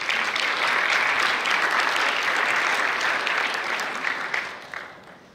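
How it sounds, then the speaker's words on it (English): An audience at the eLearning Africa 2022 conference applauds in a steady, dense wash of clapping that holds for several seconds before tapering off toward the end. "maybe with a round of applause"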